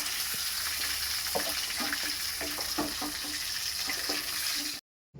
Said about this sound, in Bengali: আমি এইভাবে মাছগুলোকে ভেজে নিয়েছি।